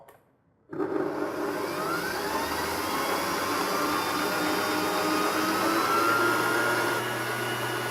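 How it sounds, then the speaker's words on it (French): Electric mixer fitted with a whisk, running at low speed through lemon cream for a lemon meringue tart; after a quiet start it switches on into a loud, steady motor whir that continues to the end. "je mets mon fouet et j'y vais tranquillement, vitesse 2-3"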